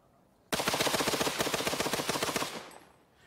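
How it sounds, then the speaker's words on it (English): A Maxim machine gun fires one sustained burst of about two seconds, loud and rapid with evenly spaced shots, then fades into a short echoing tail with no speech. "The Maxim sprayed a wall of fire that cut down everything in its path."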